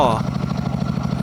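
A Honda Forza 350 scooter engine putters at idle with a quick, even exhaust pulse, fairly close, after fitting an exhaust sound-reduction device; a brief voice is heard at the very start.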